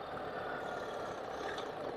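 A 2024 BMW R1300 GS Triple Black motorcycle fitted with luggage, ridden on the road, gives a steady, loud engine drone blended with rushing noise that holds level for the whole stretch.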